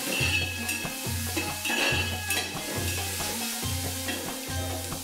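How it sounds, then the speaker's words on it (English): One large onion sautés in hot oil, producing a constant close sizzle punctuated by a regular rhythm of stirring strokes, repeating about every half second with no talking. "Now in this hot oil, we're going to saute one large onion till it's soft and translucent."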